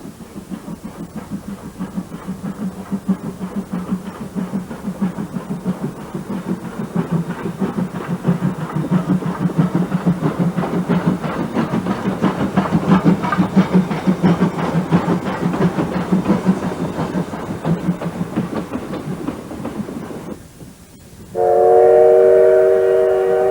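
Steam train on Japan's Oigawa Railway in mountain country, a loud steady rumble and rhythmic chuffing from the running locomotive, ending with a sustained whistle blast.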